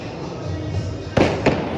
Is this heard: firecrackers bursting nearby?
yes